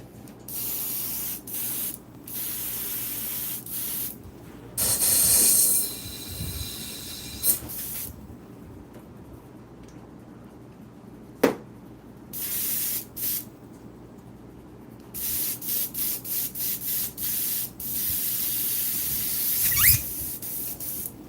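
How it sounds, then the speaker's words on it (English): Bursts of an airbrush spraying black paint onto a Claybord panel for a rose painting, hissing in short and long puffs separated by quiet gaps, with small clicks and handling noises between sprays. "I'm going to spray the black lighter in the area at the bottom"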